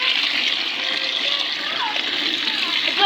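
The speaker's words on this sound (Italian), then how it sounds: "Scende l'acqua dal rubinetto." Water streams from a tap and splashes steadily, a bright continuous hiss close by in what sounds like a home bathroom, with children's voices faintly mixed in.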